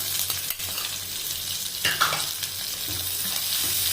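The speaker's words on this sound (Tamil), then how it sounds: "வெங்காயம் நல்லா கொஞ்சம் கலர் மாதிரி சிவக்கிற அளவுக்கு நம்ம வந்து வதக்கிக்கலாம்" Onions sautéing in hot oil with curry leaves and green chillies, a dense continuous sizzle and frying hiss close up, broken by a couple of spoon scrapes and stirs, with no voices.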